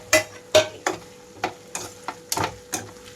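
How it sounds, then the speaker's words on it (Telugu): Fried chicken pieces tossed into a pan of sizzling ginger, garlic and curry leaves for chicken pickle; a spoon scrapes and stirs in about eight sharp, irregular strokes over a faint steady sizzle. "ఇప్పుడు ఈ అల్లం వెల్లుల్లి అంతా వేగిన తర్వాత చికెన్ ముక్కలు కూడా వేసేస్తున్నాను వేయించుకున్నవి."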